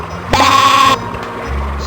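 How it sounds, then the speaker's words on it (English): A single sheep bleat from the Spy Fox video game, a loud buzzy cry lasting about half a second over a steady background hum. "Stereo sheep."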